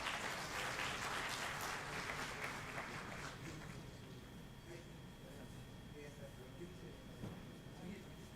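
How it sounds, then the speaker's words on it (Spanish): Audience applause welcoming a speaker at a conference session on sustainable development and climate change, a dense clapping wash that gradually thins and fades beneath faint voices. "Recibamos, por favor, con un aplauso al ponente."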